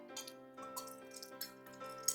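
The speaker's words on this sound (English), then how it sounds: "I think that's enough tonic." Fever-Tree Mediterranean tonic water being poured into a glass of gin gives a steady, soft, close trickle with faint fizzing drips, heard over a constant tonal background hum.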